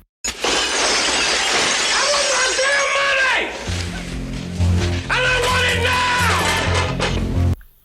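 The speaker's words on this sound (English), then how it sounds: "Tubbs picks up the stool and smashes the display case" Glass display case smashed with a stool in a Miami Vice scene, a loud shattering crash followed by falling shards, repeated twice with music and voices in between.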